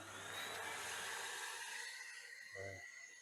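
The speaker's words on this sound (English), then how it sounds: "I've got the Hoover, so there won't be any dust fired at me." A Henry Hoover vacuum cleaner runs steadily at a distance, a faint continuous whirring drone with a brief low hum near the end.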